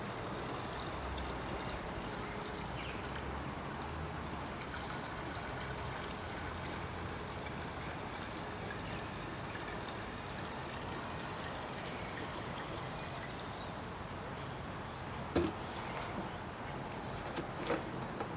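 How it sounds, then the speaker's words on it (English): Fuel trickles and gurgles steadily into the tank of a Honda HRU196 lawn mower that had been submerged in floodwater, a continuous close pour with a couple of small knocks near the end. "we'll get some fuel in there."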